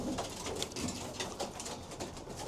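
Racing pigeons in a loft after a training flight give soft, overlapping coos against a steady, dense background hiss, with no voices.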